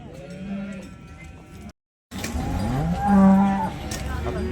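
Cattle mooing at the busy Sangola cow market, with a short break in the recording, then a loud, drawn-out low moo amid background crowd noise.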